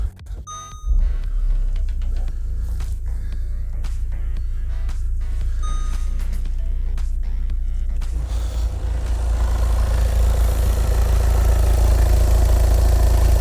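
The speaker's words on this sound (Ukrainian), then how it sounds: "Так, заводю. Завожу." A Volkswagen Passat 2.0 TDI diesel cranks and catches after a few dashboard chimes, then settles into a steady, close diesel idle that grows slightly louder and rougher toward the end.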